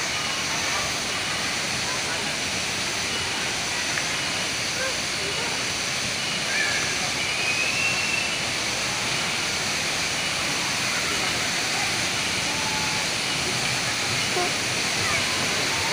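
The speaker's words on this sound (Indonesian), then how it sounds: "Wah, sampai kita ke air terjun" Curug Sawer waterfall at Situ Gunung roars as a loud, steady rushing wash with no breaks, close by, with faint voices under it.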